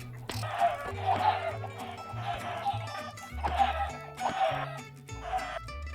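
Minecraft chickens cluck in a modded FTB OceanBlock world, a series of several clear, close clucks at a fairly steady rhythm over soft low background music.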